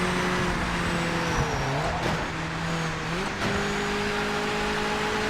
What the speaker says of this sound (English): Gear shift down.